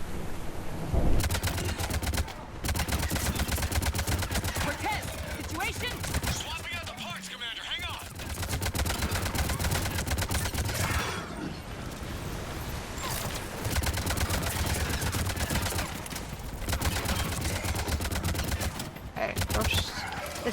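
Sustained rapid gunfire in Mass Effect 3, dense bursts of automatic shots in long stretches with brief pauses, loud and continuous, with people talking underneath.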